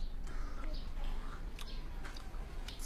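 Someone chews a thick, round Sichuan flatbread with no sauce, close-up, with soft repeated bites and crunching in a quiet setting.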